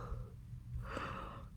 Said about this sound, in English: don't mean to yawn